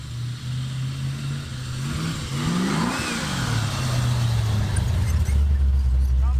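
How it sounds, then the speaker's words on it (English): A truck pulls up with its engine revving, the pitch climbing and falling as it nears, then settling into a louder steady rumble close by; no talking. "Truck has arrived."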